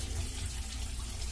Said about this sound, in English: Little water drips down here